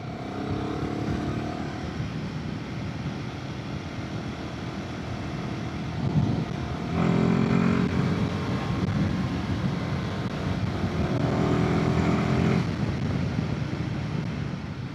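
A Royal Enfield Himalayan 450 motorcycle rides along an A-road, its engine droning steadily with rising and falling revs and gear changes over constant wind rush, close and loud throughout.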